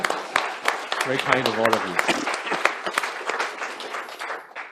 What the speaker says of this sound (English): you can give him a round of applause, of course